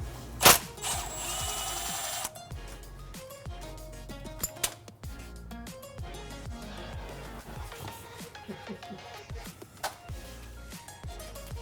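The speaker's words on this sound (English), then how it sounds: "Now to remove the valve cover, relatively easy to get to on this car." A power tool whirs in bursts as valve cover bolts come off a 1965 Ford Mustang engine, with a brief loud high whine at the start, then repeated buzzing runs and clicks close by, without talking.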